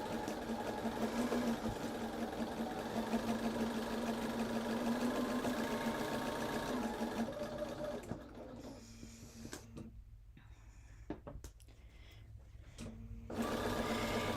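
Sewing machine stitching holiday placemats, a steady near hum of the motor running continuously for about eight seconds, then stopping and starting in short bursts before resuming.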